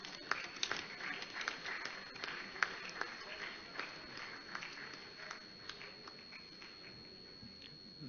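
Audience clapping at a university convocation ceremony, a faint, scattered round of applause with sharp individual claps, heard from a distance in a large hall.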